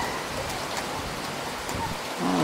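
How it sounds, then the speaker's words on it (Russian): A rain shower on a city square in Stavropol, with steady dense rainfall hissing and pattering on hard surfaces nearby at an even, loud level and no talk. "Вот такой дождик нас застал."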